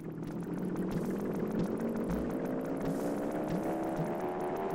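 A steady engine revving drone inside the Animal Well video game, a continuous mechanical hum with a slowly rising pitch that holds at an even level for several seconds, with no talking.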